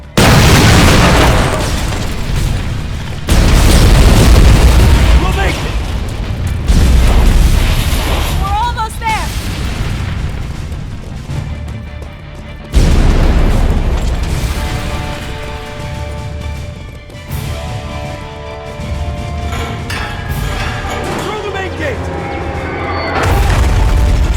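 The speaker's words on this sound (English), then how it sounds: "Detonating in 3, 2," Massive detonations thunder through a Terminator Resistance cutscene, deep booming blasts and rolling rumbles repeating over about twenty seconds, with debris crackles and a voice speaking among the explosions.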